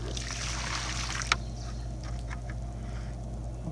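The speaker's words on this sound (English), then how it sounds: "So this is a slow motion, or maybe not slow motion shot of me dumping water in" Water poured from a container into a planting hole in a bonsai nursery garden, a steady close splashing and trickling wash with one sharp splat partway through, over constant low background hum.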